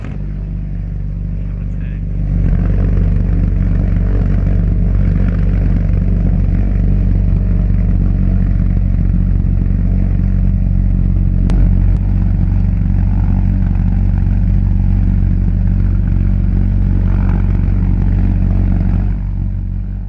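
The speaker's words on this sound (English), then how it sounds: "This 350 lbf thrust unit, built by Argus, powered World War II's first cruise missile." An Argus 350 lbf thrust pulse jet, the World War II V-1 flying bomb engine, runs with a loud, steady low drone and buzz that stays constant for most of the span.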